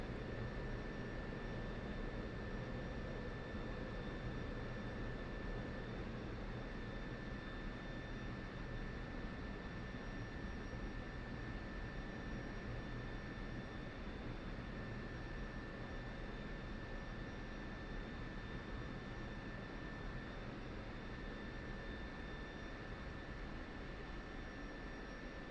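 An F-16C jet rolling on a runway in the DCS flight simulator, a steady loud engine roar with a thin high whine held throughout, unchanging and with no voices.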